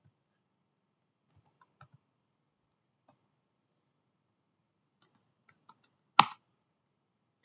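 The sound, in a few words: typing code on a computer keyboard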